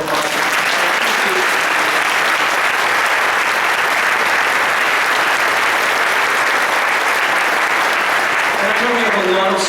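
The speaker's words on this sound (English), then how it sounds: "Could we please give all of them a round of applause?" A stadium audience at a school event honoring school leaders applauds loudly and steadily for nearly ten seconds, a dense wash of clapping with no break.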